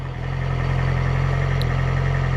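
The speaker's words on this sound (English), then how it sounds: "it's always good to warm up the bike first" A sports bike engine idles steadily while warming up, a low continuous rumble with even pulsing that stays close and loud throughout, with no voices.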